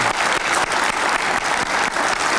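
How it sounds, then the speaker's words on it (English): Applause rises from an audience at a sports hall of fame induction ceremony, a close, dense, continuous round of clapping sustained for a couple of seconds with no voices over it. "Can you guys please give them guys a round of applause?"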